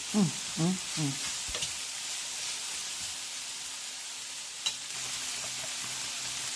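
Jalapeños and garlic fry in a pan with an even, continuous hiss and sizzle, close and steady, with a brief utterance at the start and a single clink midway.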